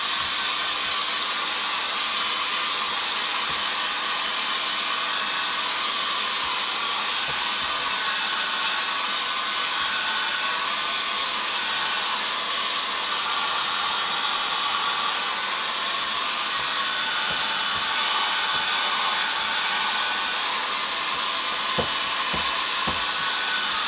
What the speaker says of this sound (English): Just using a hairdryer, just give it a quick blast.